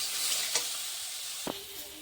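Brinjal frying in a pan with salt and turmeric gives a steady, close sizzling hiss, broken by a couple of brief clinks as it is stirred.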